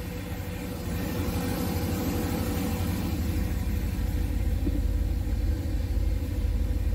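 A boosted 408 LS engine revs up a little with added gas, a loud, close, steady deep rumble that rises and then holds without any talking.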